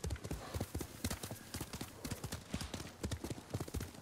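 Rapid, rhythmic hoofbeats pound steadily throughout, a horse galloping at full pace with a dull, thudding clip-clop, in the video game Ghost of Tsushima.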